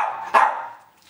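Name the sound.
dog barking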